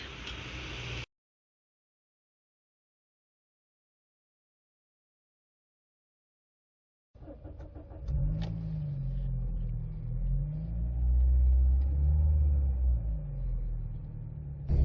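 After a brief burst and a stretch of silence, the engine of a 1996 Citroen Xantia 2.0 16V rumbles steadily from inside the cabin, rising and falling as it drives along.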